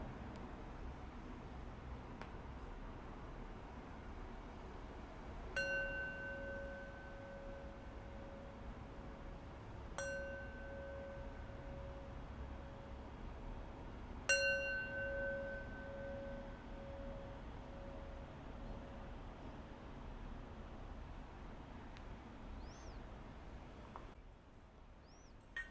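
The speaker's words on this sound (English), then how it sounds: "I'm going to close practice with 3 rings of the bell." A meditation bell is struck three times at spaced intervals, each ring clear and sustained, fading slowly over a quiet, faintly hissing room.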